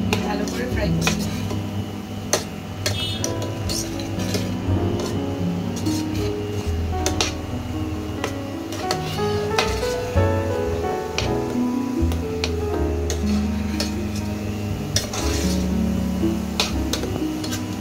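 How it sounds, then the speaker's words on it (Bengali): Spices fried in a pan for chicken kosha, chili powder among them, with a busy run of metallic scraping, clinking and clattering from stirring against the pan, close and continuous throughout. "ভালো করে ফ্রাই করছি।"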